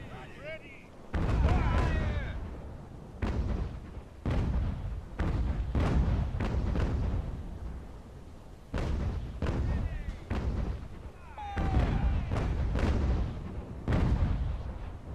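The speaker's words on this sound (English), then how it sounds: "let's just hold fast while this gets bombarded." Artillery bombardment rumbles through a naval-era battle in the strategy game Ultimate Admiral: Age of Sail, at Savannah. Heavy booms roll in one after another at irregular intervals, roughly a dozen, each with a short fading tail.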